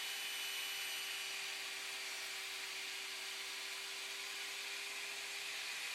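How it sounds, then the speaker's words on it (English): A power saw with its blade raised only about a quarter inch cuts a small rabbet along the underside of a wooden shelf board, giving a steady, unbroken whining drone at low level with no pauses. "So we're just making a little tiny rabbet on the underside of the wood."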